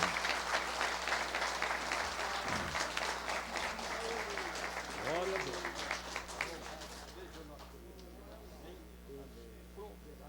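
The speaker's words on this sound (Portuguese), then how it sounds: "Dizemos amém e aplaudimos o Senhor Jesus Cristo" A church congregation applauds during a service, a dense wave of clapping that swells and then thins out over several seconds, with some voices and exclamations mixed in toward the end.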